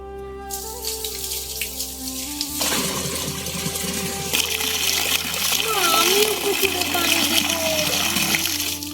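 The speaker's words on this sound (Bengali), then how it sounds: "চলো এবার পুকুরটার ভিতরে পানি দিয়ে ভরে নেই।" Water splashes and pours steadily into a small toy pond while a child and an adult talk over it.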